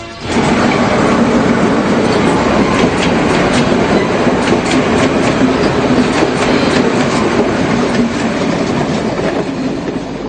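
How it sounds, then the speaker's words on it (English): A train rolls through a busy marketplace near a level crossing, a loud continuous rumble with steady clickety-clack wheel beats throughout, no voices. "Trains pass through the Pilimatalawa marketplace"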